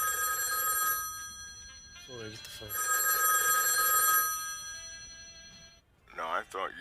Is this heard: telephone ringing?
yes